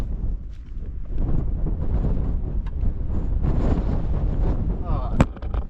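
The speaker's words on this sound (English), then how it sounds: "The wind nearly blew me over the stile and then it blew my GoPro over." Strong wind roars across an open hillside above Ullswater in the Lake District, a constant low buffeting rush that batters the microphone for several seconds, with a sharp knock near the end.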